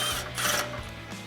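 A hand ratchet turns a nut off a tie rod on a Ford F-150 during a leveling kit and upper control arm install, quick clicking bursts at close range, loud and steady with short pauses between strokes.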